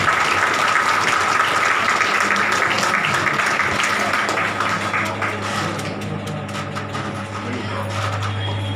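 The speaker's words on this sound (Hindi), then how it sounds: "एक बार जोरदार ताली आप सभी लोगों के लिए" An audience claps at a live event, sustained dense applause that gradually thins, with a steady low hum beneath it.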